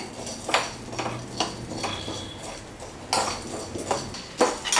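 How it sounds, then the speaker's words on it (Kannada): A spoon stirs and scrapes sago pearls roasting in ghee in a metal pan for sabudana payasam, making repeated clinking, scraping strokes in an irregular rhythm, close and fairly loud. "ಇದನ್ನು ಹುರ್ಕೊಳ್ತಾ ಇದ್ದೇನೆ"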